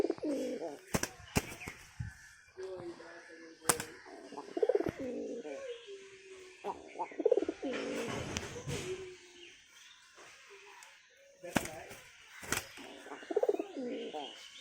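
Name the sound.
pigeon cooing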